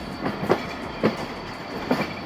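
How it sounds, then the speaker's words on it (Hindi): Shah Latif Express passenger train rolling along the rails, with a steady rumble and periodic wheel clacks over rail joints, heard up close from on board. "बेहतरीन साउंड ट्रैक के साथ शाह लतीफ़ एक्सप्रेस"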